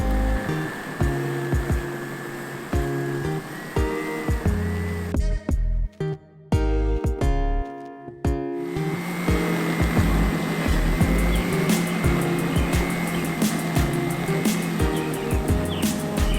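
Lawn dethatching machine running close by with a buzzing motor drone, briefly cutting out and sputtering in the middle before resuming a steady loud whir with rattling from debris.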